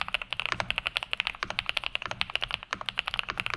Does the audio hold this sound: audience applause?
no